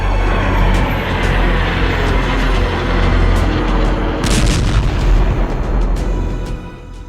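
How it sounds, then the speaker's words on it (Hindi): Heavy booms, blasts and bursts of gunfire from US air strikes on Kataib Hezbollah sites in Iraq keep up a loud, dense rumble throughout, with sharper cracking impacts clustered near the end. "अमेरिकी सेना ने ईरान समर्थित कताइब हिजबुल्लाह पर भीषण हवाई हमले किए थे"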